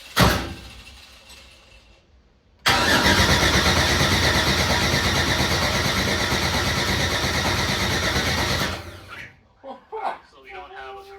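A pro drift car engine cranks briefly, then fires on its first start into a loud, steady roar that holds for several seconds before cutting off, followed by voices and small clunks.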